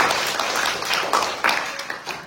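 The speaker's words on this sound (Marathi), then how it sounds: "टाळ्या वाजवा" Listeners at a Mahanubhav devotional storytelling session clapping together, a brief burst of quick, sharp hand claps with irregular accents, fairly close and without talk.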